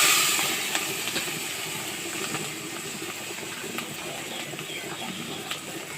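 Spice paste frying in oil in a pan, a continuous close hiss and crackle of fine sputters with faint scattered pops, steady and without speech.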